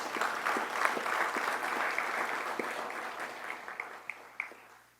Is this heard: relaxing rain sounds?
no